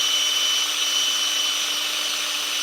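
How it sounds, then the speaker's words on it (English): A power drill whines steadily into a tapered hole in wood, jumping at the bottom, a continuous high-pitched grinding buzz that stays loud and even throughout. "see how that drill jumps over?"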